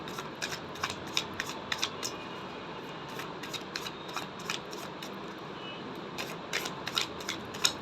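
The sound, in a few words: shuffling tarot cards, a card jumping out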